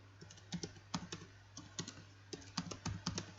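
Keys clatter on a computer keyboard in quick bursts of typing with short pauses, close and quiet over a low steady hum.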